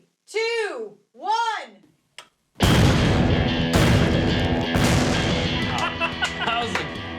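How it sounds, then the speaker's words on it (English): Six sticks of dynamite explode at a tree: after a few seconds of spoken countdown, a sudden loud boom hits, followed by sustained rumbling and crackling debris that slowly tails off. "That was a good explosion."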